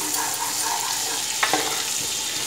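Finely chopped garlic fries in melted butter in a pan, giving a steady close sizzle with a couple of brief stirring scrapes partway through and no talking.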